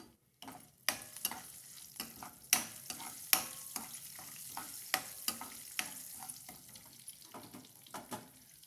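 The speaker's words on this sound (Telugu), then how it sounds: "ఆవాలు, మినపప్పు కూడా ఆయిల్లో వేసుకొని వేపుకోవాలండి" Mustard seeds and urad dal fry in hot oil with a steady sizzle, punctuated by sharp, irregular crackling pops that continue close and clear throughout, with no talking.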